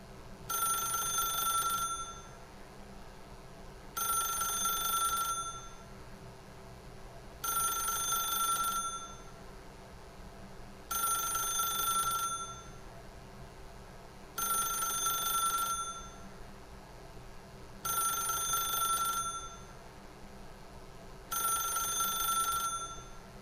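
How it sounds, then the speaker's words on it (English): A telephone in The Stanley Parable rings in steady repeating bursts, seven rings about every three and a half seconds, clear and electronic-sounding over a quiet hum, with no talking. "then pick up the phone."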